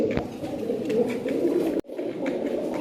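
Pigeons in a breeding pair coo continuously with low, throaty murmurs up close, briefly interrupted by a sharp click partway through.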